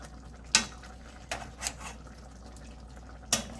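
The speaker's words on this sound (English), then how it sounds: "So just gonna let it simmer down, and then it will be ready." Salmon in West Indian papaya chutney simmers in a pot, a low bubbling bed broken by a few sharp clinks and stirs of a utensil against the pot, close by, without talk.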